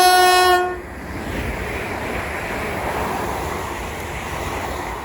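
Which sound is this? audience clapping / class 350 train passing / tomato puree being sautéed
class 350 train passing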